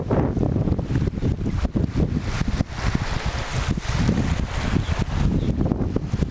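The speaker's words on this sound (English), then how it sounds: "This footage is gonna be full of wind." Heavy wind buffets the microphone in a constant, loud rumbling roar, gusting unevenly with no voices heard.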